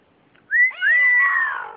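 A parrot imitates a cat with a single drawn-out, whistly meow, rising sharply then holding and fading; loud and close in a quiet setting.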